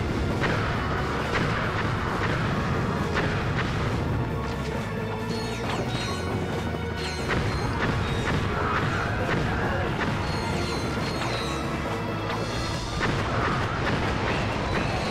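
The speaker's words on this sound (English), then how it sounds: "I'm just randomly shotgunning things" Rapid, heavy shotgun blasts with crashing impacts and metallic clatter in Ratchet & Clank: Up Your Arsenal, fired repeatedly and loud throughout amid dense action noise.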